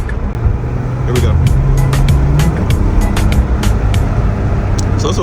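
Inside a Porsche 911 of the 992 generation, the engine drones loudly and steadily through a downshift, with faint clicks over the cabin rumble while a person talks.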